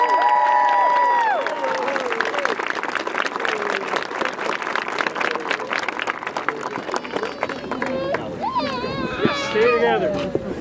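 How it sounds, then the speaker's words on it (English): At a military training family day drill-off, a crowd applauds and cheers the top five performers, clapping mixed with whoops, shouts and voices throughout, with excited cries rising near the end. "Top five jams, round of applause."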